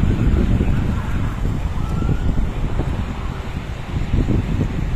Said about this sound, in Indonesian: Angin bertiup cukup besar, semoga saja tidak mengganggu suara narasi saya